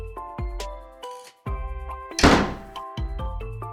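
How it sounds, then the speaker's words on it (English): Heavy fist thuds on a sturdy wooden front door in a children's story of the big bad wolf, several loud hollow bangs spaced apart over a musical background. "The wolf, who was very hungry by now, banged on the sturdy front door."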